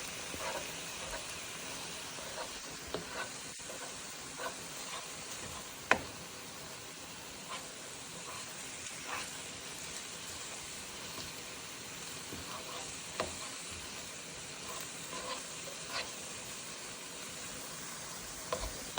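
Ground beef frying in a pan for beef stroganoff Hamburger Helper, a continuous soft sizzle broken by occasional light taps and scrapes from stirring, close and fairly quiet with nobody speaking.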